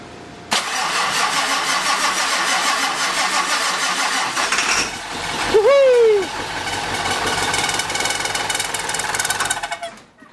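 A Ford Powerstroke diesel engine cranks, catches and runs loud and close, with a squealing belt-like whine as it revs, then settles into a steady rough idle before cutting off.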